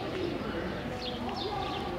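Pigeons cooing in a street of Toledo, Spain, a soft continuous murmur of calls from a flock close by, with people talking over them throughout.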